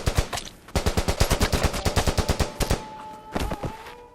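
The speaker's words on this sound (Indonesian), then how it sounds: "para tentara segera menembaki Vitali yang sedang berlari" Soldiers fire rapid bursts of automatic gunfire in a war film, a loud, steady rattle of close shots that breaks into a few scattered final rounds.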